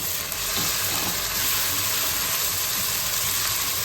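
Ginger and garlic go into browned onions in a pan for chicken sukkha and fry with a steady, close, loud sizzle throughout; no talk.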